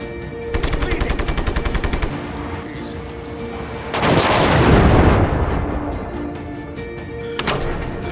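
Rapid machine gun bursts rattle in Just Cause, followed by a long rumbling explosion and a later sharp blast, loud and close with no talk.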